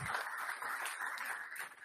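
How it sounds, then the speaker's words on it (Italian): An audience at an Olympic delegation send-off press conference applauds Olympic fencer Stefano Cerioni, a soft, steady wash of clapping that runs the whole short stretch without a break, with no voices over it. "Facciamo un applauso anche a lui perché mi sembra tanto."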